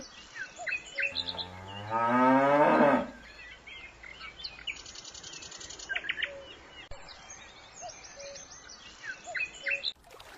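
A cartoon cow gives one long, loud, close moo, set among light chirping birds and small scattered sound effects that continue afterward.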